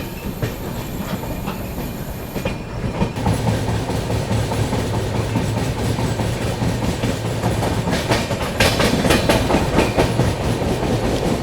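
The 22412 Arunachal AC Superfast Express rolls through Gonda junction without stopping, a steady loud rush with rhythmic clickety-clack of wheels over rail joints that builds slightly toward the end.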